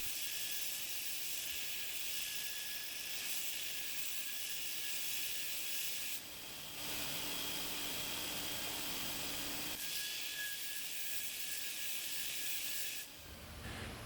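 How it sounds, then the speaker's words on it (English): A 2x72 belt grinder with a coarse grit belt grinds mild steel in a continuous, steady hiss, with brief breaks where the piece is lifted away. It sounds close and constant. "once I decided to go to the 2x72 with a 6-3 grit belt, and made quick work of the mild steel."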